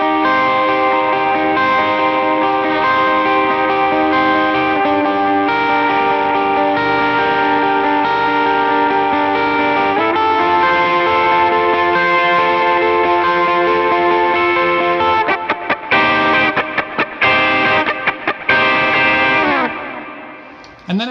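Distorted electric lead guitar riff played slowly then faster with chugging palm mutes and short choppy stabs near the end, loud and heavily effected with chorus and echo, alone.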